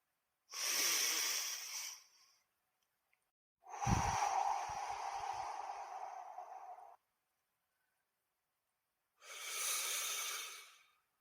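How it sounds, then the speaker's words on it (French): Slow, deep breaths sound close and airy during a relaxation exercise, three long inhales and exhales separated by silent pauses, one with a slight wheezy catch. "En inspirant profondément."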